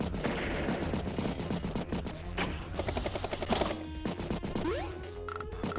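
Attack on a tank in the Advance Wars video game, a dense burst of loud crashing game impacts and rapid gunfire-like blasts that runs the whole time with no speech.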